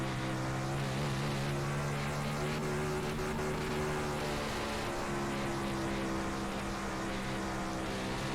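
A 360 sprint car racing at Bristol Motor Speedway through turns 3 and 4, heard as a loud, continuous high-revving engine roar that shifts in pitch as it powers off the corner.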